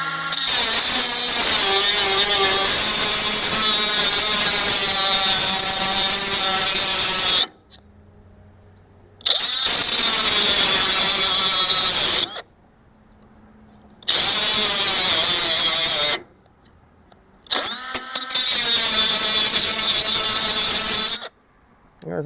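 A loud, harsh powered tool grinds in long, even bursts while chipping at the sprocket cover trim of a 1973 Harley Sportster. The bursts are broken by several short pauses of near silence.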